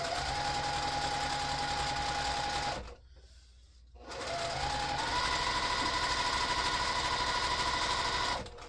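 A sewing machine stitches a quilt-as-you-go pumpkin potholder strip in a steady, close, whirring run, pausing briefly for about a second before resuming at an even higher, constant hum to the end.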